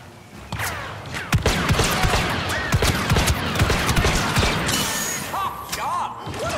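Rapid blaster fire and impacts from Star Wars Battlefront II story mode form a loud, continuous barrage of shots and thuds. Game voices and chirping electronic sounds are mixed in.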